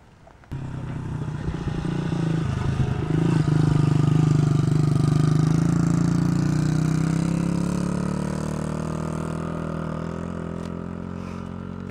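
A motorcycle engine idles close by, starting abruptly with a loud steady rumble that holds for several seconds and then eases slightly lower, with no talking over it.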